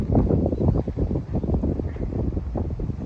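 Strong wind buffeting outdoors near a lively horse, heavy gusty roaring and low-frequency microphone rumble filling the whole moment, loud and close.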